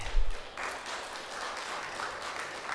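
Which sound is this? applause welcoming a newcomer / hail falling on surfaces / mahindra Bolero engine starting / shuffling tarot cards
applause welcoming a newcomer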